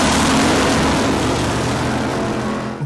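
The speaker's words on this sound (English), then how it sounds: "I am, of course, speaking of the one and true 350 small block" A Chevrolet 350 cubic inch small block V8 runs steadily at a constant idle-to-mid pitch, a loud continuous mechanical drone with low rumble and no voices over it.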